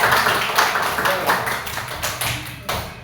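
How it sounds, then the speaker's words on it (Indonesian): Students in a classroom clap for a presenting group, giving a few loose bursts of hand claps that swell and fade, with some talk in the room underneath. "Yuk, beri tepuk tangan buat kelompoknya Mbak Sarah."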